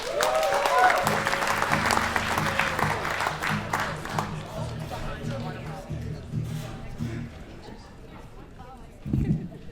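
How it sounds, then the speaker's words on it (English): A comedy festival crowd in Yakima, Washington claps and cheers for the next comic, loud at first then tapering off, with an emcee talking and music under it. "let's go ahead and give our next comic a big round of applause"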